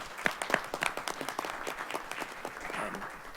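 A room at a city council meeting applauds Marianne and her team, with a few distinct, sharp claps near the front over scattered clapping from a modest audience that thins out toward the end.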